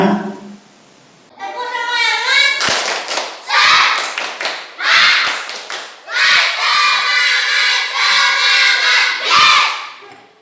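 Schoolchildren in a maths lesson perform a tepuk semangat spirit clap, shouting a rhythmic chant in loud bursts broken by sharp clap and thump accents, with short pauses between phrases.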